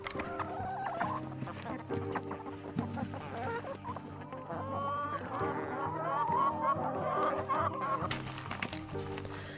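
Several chickens cluck and murmur close by, with a few louder calls rising over a busy, continuous background.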